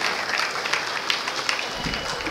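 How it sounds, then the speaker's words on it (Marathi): An audience at a cultural anniversary celebration breaks into hearty applause, a continuous, even patter of many hands clapping at close-to-middle distance with no voices standing out. "याच्याकरता जोरदार टाळ्या वाजून त्याचं आपण कौतुक करूया."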